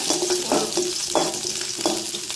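A whole head of garlic cloves fries in a spoonful of oil, giving a close, steady sizzle with a few soft scraping bursts from stirring and a faint tonal hum underneath.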